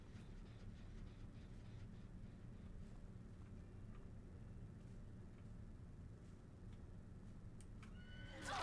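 A horse whinnies in a video game, a loud rising neigh at the very end over a steady low rumble of game ambience.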